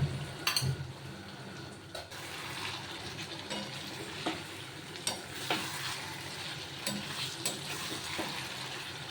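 Potatoes go into a pot of chicken biryani and are stirred, with a quiet sizzle under intermittent spoon scrapes and clinks against the pot.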